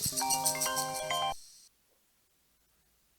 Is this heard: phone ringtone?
yes